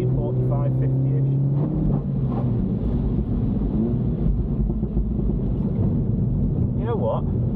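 A Mini Cooper S engine drones loud and steady as the car powers out of a corner during a track day at Blyton Park, with someone talking over it throughout.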